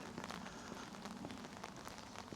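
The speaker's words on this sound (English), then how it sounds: "Just as I was getting ready, it started to rain." Steady rain falls during an outdoor walk, a soft continuous patter of drops with faint scattered ticks, distant and low in level with no talking.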